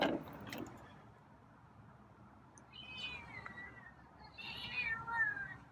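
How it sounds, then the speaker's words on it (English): A feral cat meows repeatedly at close range, with a couple of distinct, rising calls near the end standing out over quiet room background. "it's a lot of meow. Hey, some more meows"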